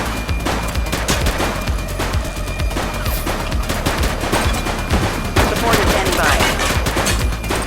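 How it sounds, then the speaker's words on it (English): Dense rapid gunfire in a police shootout in the video game The Precinct, continuous loud bursts of shots layered over one another with game effects throughout. "Shots fired!"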